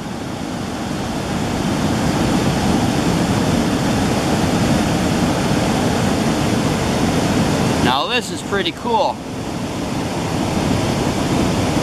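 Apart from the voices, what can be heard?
river water flowing down rocks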